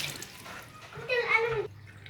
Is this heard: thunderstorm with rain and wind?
no